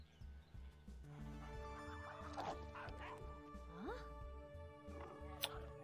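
Cartoon corgis yip and bark in an animated show, several short high barks and whimpers scattered over a steady droning music bed, with voices talking throughout.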